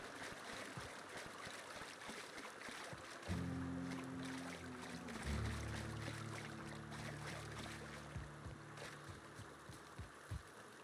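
A boat carries along a river in the game The Outer Worlds, with steady watery rushing throughout and a low engine drone that rises partway through and holds beneath scattered soft knocks.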